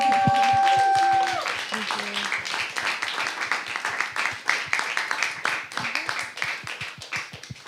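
An audience applauds a speaker at a Houston gathering, with a brief sustained tone fading out before a dense, steady patter of many hands clapping together that carries on for several seconds.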